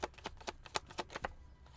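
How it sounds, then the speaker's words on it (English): A deck of cards is shuffled during a live tarot reading, with a quick run of crisp riffling bursts at close range, loud and uneven, and no talk over it. "Let's do one more shuffle."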